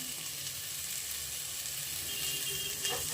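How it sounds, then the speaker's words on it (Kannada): Tomato frying in a pan for a ridge gourd palya, a steady soft sizzle with faint stirring scrapes near the end, close and fairly quiet with no talking. "ಫ್ರೈ ಮಾಡ್ಕೊಳ್ಳೋಣ ಈಗ ಟೊಮೊಟೊ ಹಾಕ್ಕೊತಾ ಇದ್ದೀನಿ"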